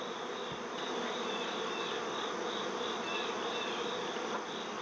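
Honey bees hum around an open hive during an oxalic acid treatment. The buzz is steady and close, with a few bees rising and falling in pitch as they fly past. No one speaks.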